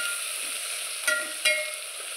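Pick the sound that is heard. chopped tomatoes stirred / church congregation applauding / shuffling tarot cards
chopped tomatoes stirred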